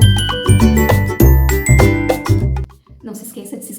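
A short musical intro jingle for a face-painting channel plays loudly with bright chiming, bell-like notes over a punchy rhythmic beat, then cuts off abruptly and gives way to softer sound.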